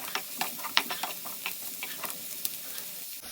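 Onion and chopped green chilli frying in a pan for chicken fried rice, a steady close sizzle broken by scattered ticks and scrapes of stirring.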